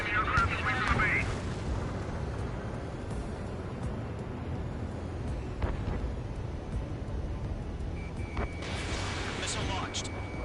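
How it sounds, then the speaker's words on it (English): Missiles launch and strike targets during an aerial dogfight in the Ace Combat 7 video game, with a rumbling roar of engines and low booming impacts, brief whooshes and a tonal alert, while a voice speaks over the action. "Missile launched. Fox 2. Missile hit."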